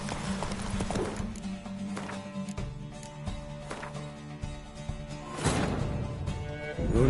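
Hooves of Roach, Geralt's horse in the video game Witcher 3, galloping in steady rapid clip-clop over loud game music and effects, with a brief whinny.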